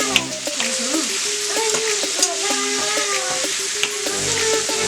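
Sandwich filling sautéing and being stirred on a skillet, giving a steady close-up sizzle with occasional scrapes, while a faint voice-like sound wavers in the background.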